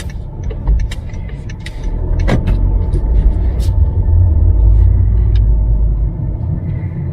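A car drives along a road with a loud, steady engine rumble and road noise from inside the cabin, joined by a few faint rattles and clicks.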